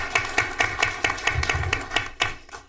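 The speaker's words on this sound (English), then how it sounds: "everybody give her a round of applause, please" Sparse clapping from a small audience at a school board of education meeting, a handful of distinct, fairly close claps in an uneven rhythm rather than a full ovation.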